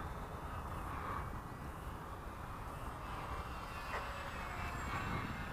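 Electric RC BF-109 fighter model flying past at about 40% throttle, a steady, moderately distant whir against a broad background hiss, with no talking.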